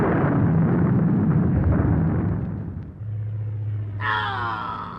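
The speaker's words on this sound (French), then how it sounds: "Une bombe." Bomb from a plane exploding as a radio drama sound effect: a loud, sustained rumbling blast that fades into a low drone, followed by a brief high-pitched whistling tone.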